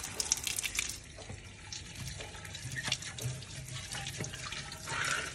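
A tap runs into a basin while an Indian household fridge is being cleaned, giving continuous splashing and trickling at moderate volume, with a few sharper clinks and spurts along the way.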